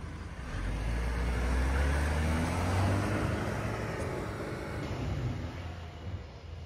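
A Ford Ranger pickup truck in 4 high drives through snow, its engine and tire rumble steady and close, with wind and road noise filling the background throughout.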